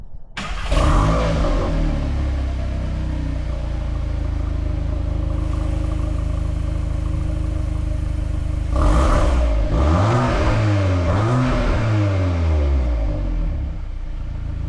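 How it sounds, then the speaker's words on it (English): A 2025 Volkswagen Golf R in Sport mode: close, loud engine and exhaust idling with a steady rumble, then two sharp revs that rise and fall in pitch, with no speech. "Now I will try Sport mode and let you guys hear that one."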